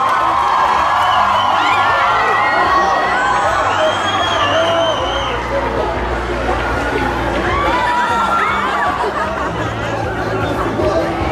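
A crowd at the Anime Deluxe 2013 convention in Chile claps, cheers and whoops for the singer, a loud, continuous roar of chatter and shouts layered over applause.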